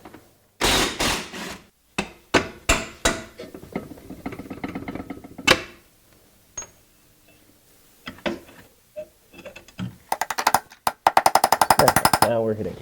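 Power tool working on a shock bolt during rear lower control arm replacement on a Jeep Liberty, sounding in sharp, repeated bursts of rattling impacts separated by pauses, close and loud, with a person talking in between.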